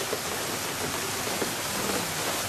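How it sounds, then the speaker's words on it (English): Steady rain falling after a thunderstorm in Garmisch-Partenkirchen, Bavaria, a dense even hiss of drops on surfaces, close and continuous with no voices. "The rain is just beginning to ease off a little bit now."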